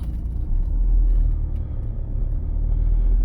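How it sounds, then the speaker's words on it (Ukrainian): A car pulling away in first gear during a driving exam in Dnipro, a low steady engine rumble from inside the cabin with a slight rise as it moves off, no talking. "Вмикаємо першу швидкість і продовжуємо рух."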